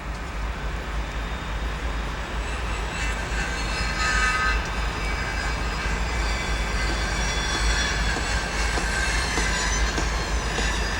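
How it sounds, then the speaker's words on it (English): A steady rumbling train at the station in Skagway, Alaska rolls along with continuous rail noise and faint wheel squeals, a dense mechanical roar filling the whole stretch. "This is the train station in Skagway."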